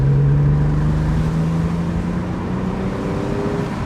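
A Porsche 911 997.1 Cabriolet engine idles with a deep, steady hum and a low droning tone that drifts slightly downward, continuous and close by.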